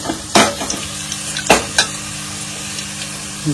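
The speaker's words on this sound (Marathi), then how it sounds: "मच्छी होतीये फ्राय आणि इकडे आपला रस्सा सुरू आहे" Fish frying in a pan alongside a simmering curry in a village-style kitchen: a continuous steady sizzle, broken by a few sharp spatula scrapes and clanks against the pan.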